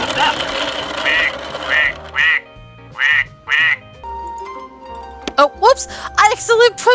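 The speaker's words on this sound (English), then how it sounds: "The duck goes quack." A farm toy duck in the Nancy Drew game Shadow at Water's Edge quacks loudly and repeatedly in evenly spaced bursts, followed by a run of rising toy tones and squeaks over a low engine-like hum.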